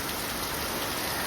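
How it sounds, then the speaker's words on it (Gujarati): Heavy, persistent rain pours over farm fields planted with cotton, a dense, even roar of drops hitting surfaces that stays constant throughout, with no talking. "વરસાદ છે ને બંધ થવાનું નામ જ નથી લેતો"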